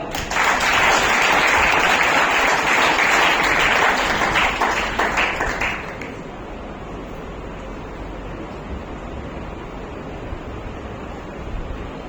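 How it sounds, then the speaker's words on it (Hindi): Dense, loud audience clapping at an oratory award ceremony as a guest is called up to speak, sustained for about six seconds before stopping abruptly into room ambience. "तो जोरदार तालियां"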